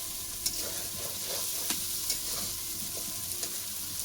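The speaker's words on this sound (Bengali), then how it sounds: "এবার একটু ঘাটি 5 মিনিটের জন্য ভাজা হোক মশলাটা" Masala spice paste for a Bengali fish curry (macher jhol) sizzles steadily in a pan, with soft scrapes of a spoon stirring it every second or so, close and continuous, no voices.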